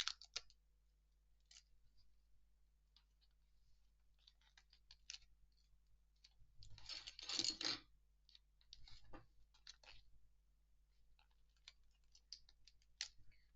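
Scissors snipping a small piece of paper card in half while making a Mother's Day easel card, a brief burst of close, crisp cutting amid scattered light clicks and handling sounds in a quiet room.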